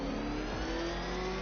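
The Batmobile's engine in Batman Arkham Knight holds a steady, loud, close mid-pitched drone with a slight revving edge and no voices over it.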